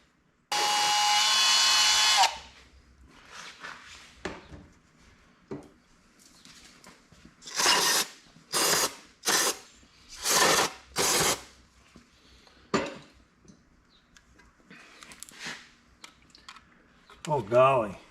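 A brass brush scrubs engine cylinders during cleanup of a worn engine, giving a run of loud, rhythmic bursts of scraping strokes with pauses between them, preceded by a long steady whoosh, with a voice briefly heard near the end.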